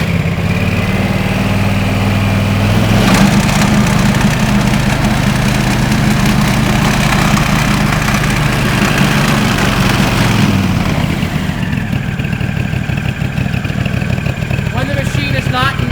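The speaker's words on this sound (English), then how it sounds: "slowly begin to throttle up the machine" An Aztec Sidewinder floor stripping and scrubbing machine runs with a steady, loud motor drone that shifts in tone as it throttles up, then changes character near the end.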